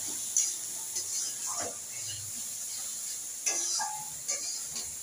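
Spices in a little oil fry for a radish, soybean and egg curry, giving a steady faint hiss with occasional stirring scrapes and light clinks of a utensil against the pan.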